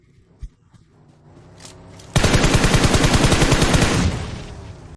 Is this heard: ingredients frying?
no